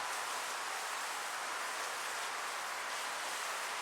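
Rain falls outdoors as an even, continuous hiss, faint and steady with no other sounds standing out.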